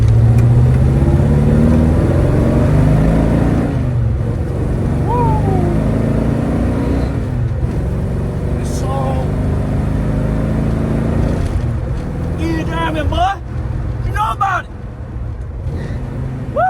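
A 1970 Dodge Charger with a stock 383 V8, Edelbrock carburetor and long-tube headers, rumbling steadily at close range while driving, its low engine drone continuous throughout with people talking over it.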